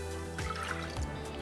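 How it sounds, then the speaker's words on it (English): Half a cup of water is poured into a saucepan for a sugar glaze on hot cross buns, a brief soft splash and trickle over quiet kitchen background hum. "We're just going to chuck in half a cup of water"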